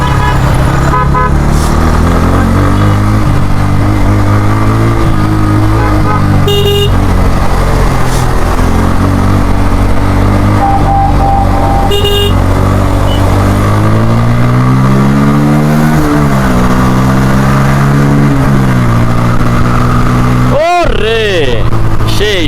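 A Bajaj Pulsar N160 motorcycle rides along with a steady engine drone that rises and falls in pitch as it accelerates, loud and close, while someone talks over it and a brief horn-like tone cuts in near the end.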